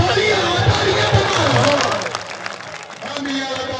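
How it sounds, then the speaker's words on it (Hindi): A crowd at a club event claps and cheers loudly for about two seconds before the applause fades into quieter scattered noise and murmur. "तालियां"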